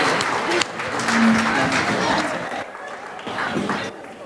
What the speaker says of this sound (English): let's have a nice big round of applause one more time for the father of our bride tonight, Mr. Frank Paulson